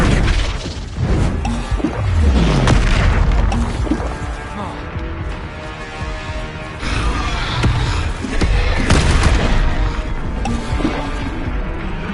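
Flipendo spell impacts in the video game Hogwarts Legacy, landing as a dense run of loud bursts and crashes mixed with other spell effects and game noise, with a voice calling out spells over the top.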